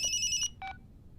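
A telephone rings in a Hindi movie scene: a bright electronic ring for about half a second, a short pause, then a second brief burst, clear and close.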